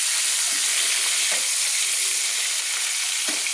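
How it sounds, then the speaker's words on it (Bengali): Chopped tomatoes fry in hot oil for a Bengali eggplant and prawn curry, a steady loud sizzle throughout with a few soft scraping stirs of the spoon and no talk. "টমেটোটা আমি তেলের মধ্যে নেড়ে নেব।"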